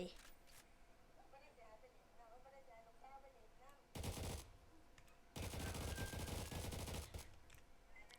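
An AK17 rifle fires in a video game: a short, loud automatic burst, then a longer sustained burst of rapid shots, following a quieter stretch with faint voice-like tones.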